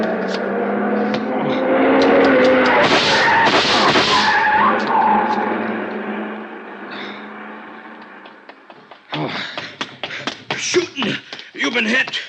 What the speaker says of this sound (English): See the car, the one that just gunned out.